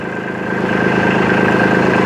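A Kubota B2741 compact tractor engine runs steadily at close range while the tractor turns in a tight radius, giving a continuous mid-pitched drone that swells slightly louder after the first half second, with no voices.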